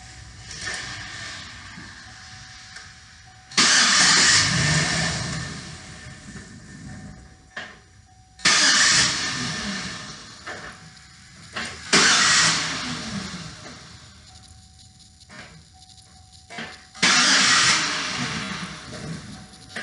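A car engine cranks during a voltage drop test on a circuit ground, in four separate loud bursts of a second or two each, with quiet gaps between and no talking.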